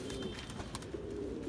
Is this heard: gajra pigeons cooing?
yes